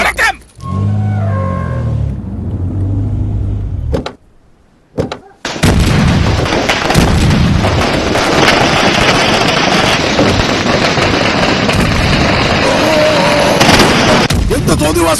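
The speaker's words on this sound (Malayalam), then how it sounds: "പടക്കം പൊട്ടിക്കൽ നിർത്തടാ" Firecrackers bursting at a wedding in rapid, loud, continuous crackling volleys after a short lull, with people shouting over the noise.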